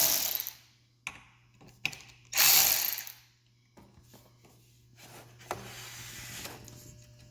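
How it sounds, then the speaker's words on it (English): Socket head cap screws being loosened and removed from the bottom piece of a backsplash, with scattered metallic clicks, ratcheting and a few louder rattling bursts, close by and with no voices. "First, remove the socket head cap screws."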